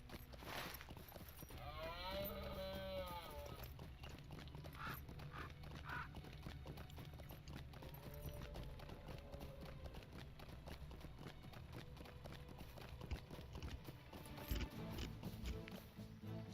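Horse hooves clip-clop in the Lord of the Rings Online video game, with a whinny early on, steady under dense game music and ambience for the whole stretch.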